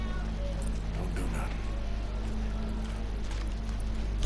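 Horse hooves clip-clop in a steady walking rhythm in the video game Red Dead Redemption 2, moderate and continuous over a low background hum, with soft speech mixed in.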